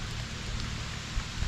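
Rain falls steadily on a night forest bushcraft camp, a dense, even hiss with low rumbling patter close around, and no voices or other sounds standing out.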